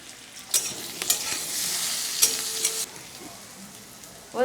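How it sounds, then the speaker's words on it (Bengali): Boiled elephant foot yam pieces fry in oil in a kadai with a steady close sizzle. Several sharp clinks and scrapes from stirring are heard, and a brief higher squeak comes at the very end. "বন্ধুরা আমার ওলটাও ভাজা হয়ে গেছে"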